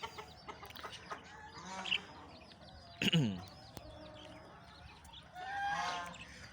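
Hens clucking outdoors in winter in a poultry yard, a few close, fairly soft clucks and squawky calls scattered over light background noise.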